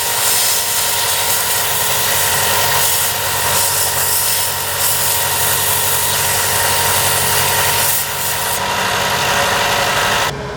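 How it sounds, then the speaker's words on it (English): A sander thins a wooden guitar top brace at the neck block, running as a loud, steady motorised drone with a constant hum for over ten seconds, with only slight shifts in tone as the wood is pressed against it. "I'm just going to thin this out on my sander."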